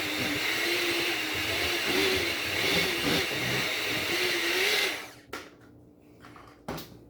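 Electric mixer beaters whir steadily through cake batter for a gluten-free cinnamon apple cake, a loud continuous buzzing drone that cuts off abruptly near the end, leaving a couple of brief clatters.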